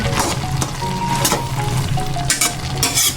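Dinengdeng with shrimp and vegetables bubbles and sizzles steadily in a pot, a loud, close, continuous crackling broken by faint scraping, with nobody talking.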